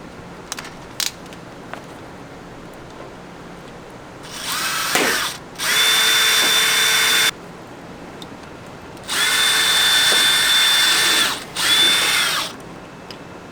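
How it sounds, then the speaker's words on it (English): A power drill with a small bit whirs in three bursts of several seconds each while drilling holes in an RV panel, separated by quiet pauses with a few small clicks and knocks. "I can drill the other 3 holes with the smaller drill bit."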